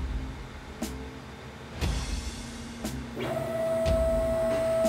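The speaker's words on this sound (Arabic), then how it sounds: "قرب لي العربية جوبيتر وخلي سلم الانقاذ الهيدروليكي جاهز" A cartoon fire truck's hydraulic rescue ladder moves with a steady mechanical whir, punctuated by several sharp clicks and clunks, and a sustained motor tone rises in the final seconds.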